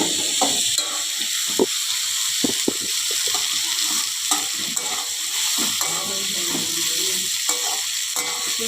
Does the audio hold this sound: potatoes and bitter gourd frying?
yes